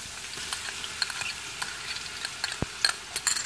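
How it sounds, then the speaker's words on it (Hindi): Ginger-garlic paste sizzles in hot oil over fried onions for a nihari, a steady crackling hiss broken by scattered pops and a scrape of stirring. "अब हम इसमें अदरक और लहसुन का पेस्ट डाल देंगे"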